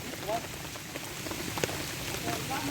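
Steady rain falls outdoors in a rural Lao or Isan setting, a constant patter on surfaces with scattered nearby drips and a few faint chirps in the background.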